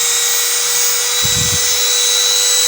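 A RZTK RMT 3211 electric engraver runs at low speed with a steady, close, high-pitched whine throughout, and a brief low thump partway through.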